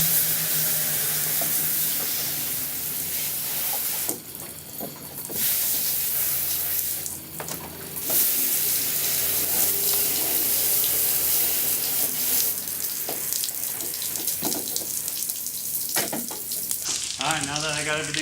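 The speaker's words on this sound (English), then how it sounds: "I'm just going to try to keep the water hitting the floor so I don't re-soak the top area." A garden hose sprays water onto a boat's floor during rinsing, a loud hissing, splattering rush that shifts in tone as the spray moves and briefly cuts out twice.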